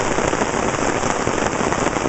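Heavy rain falls steadily on a very rainy day, a dense, even hiss of close drops with no voices.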